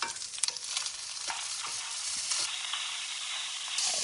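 Onions and garlic frying in a pan, a bright, steady close-up hiss and crackle with a few soft clicks of stirring early on.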